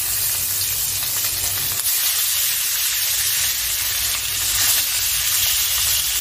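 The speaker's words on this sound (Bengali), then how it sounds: "আমি এবারে ডিমটাকে লবণ হলুদ মেখে ভেজে নিচ্ছি" Boiled duck eggs rubbed with salt and turmeric frying in hot oil in a kadai, a loud continuous sizzle and hiss up close, with no voices.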